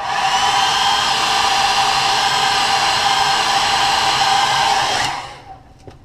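Heat gun heat-setting paint on a crankbait lure, a loud, steady close blowing whir that runs several seconds before cutting off and winding down.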